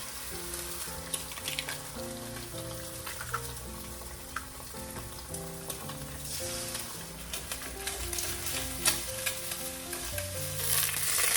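Scrambled eggs with paprika sizzle steadily in a frying pan, giving a continuous crackling hiss with occasional small pops. Gentle background music plays throughout and nobody speaks.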